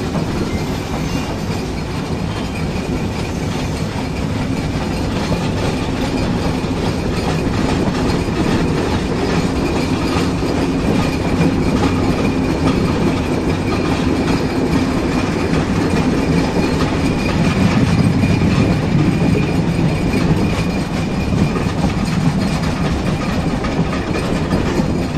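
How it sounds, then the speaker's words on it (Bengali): The Chilahati Express runs on the rails through a curve near Ibrahimabad station in Bangladesh, a loud continuous rumble and rattle of wheels and carriages with faint squealing, heard steadily from on board. "আবারও একটি কার্ভ নিয়ে প্রবেশ করছে আমাদের ট্রেন"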